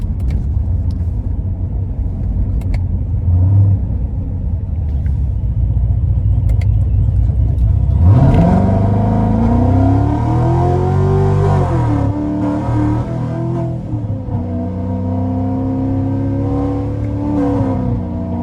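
A loud supercharged 850 HP C7 Corvette Z51 engine rumbles at idle, then roars as it accelerates hard, its pitch climbing and dipping through the revs.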